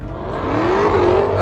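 A car spinning its tires at a car meet: a steady engine roar rises in pitch as it revs, loud and close, with no talking over it.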